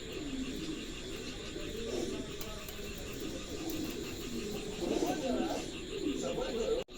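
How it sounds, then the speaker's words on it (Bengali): A pair of pigeons, offered for sale at a pigeon market, give repeated soft throaty coos close by, rising and falling over a low background hum. "চমৎকার এক জোড়া কবুতর"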